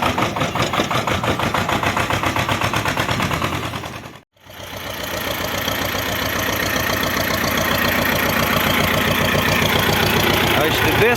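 An old tractor engine idles loudly with a fast, regular knocking beat up close, briefly cutting out for a moment before the steady chugging resumes.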